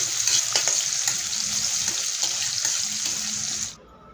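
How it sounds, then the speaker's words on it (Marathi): Tomatoes sauté with cumin in a pan for a Maharashtrian matki bhaji, making a steady bright sizzle with faint stirring ticks that cuts off abruptly just before the end. "टमाटरमधला कच्चासरपणा जाईपर्यंत, चांगलं मॅश होईपर्यंत आपल्याला परतून घ्यायचं आहे."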